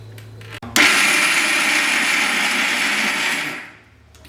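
An electric mixer grinder grinding soaked chana dal kicks in abruptly with a loud, steady whirring roar, runs for nearly three seconds, then winds down as the motor slows, close up with no talking.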